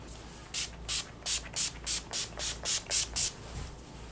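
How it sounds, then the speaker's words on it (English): About ten short, sharp spray bursts in a quick, even rhythm, each a brief hiss close by. "I'm going to be setting this with Urban Decay All Night Setting Spray."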